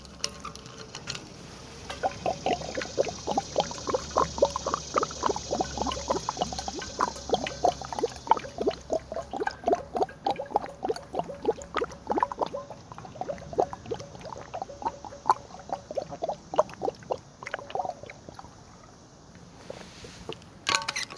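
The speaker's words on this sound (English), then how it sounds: "1 second, let me get some water here." Water pours into a glass with a soft rushing stream and patters, followed by a long series of small clinks and splashy taps close to the microphone, with no speech.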